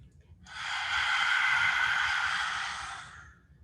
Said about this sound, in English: Cow pose, lion's breath.